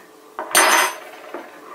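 A spoon clinks and scrapes in a cup while tea is being made, giving a couple of short bright metallic knocks followed by a louder ringing clatter and another light tap.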